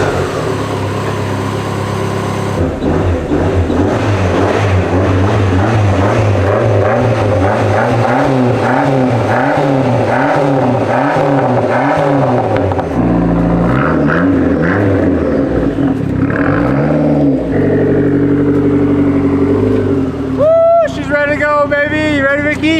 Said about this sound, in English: The SRT4 is completely assembled. This thing is running mint.